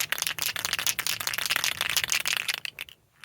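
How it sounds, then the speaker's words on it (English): An aerosol can of Glass Mechanix headlight restoration spray is shaken vigorously on a chilly day, giving a fast, continuous rattle of the mixing ball that stops abruptly near the end. "It's a little chilly today, so give it a little extra shake."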